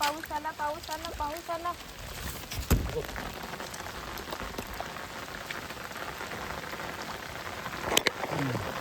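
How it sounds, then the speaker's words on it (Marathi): Steady rain patters on a surface throughout, with a few louder drops and brief voices in the background near the start. "पाऊस आला."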